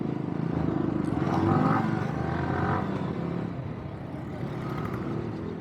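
Motorcycle engine droning and rising as it revs during a morning ride, a steady loud rumble with mild swells under broad road and wind noise, no voices.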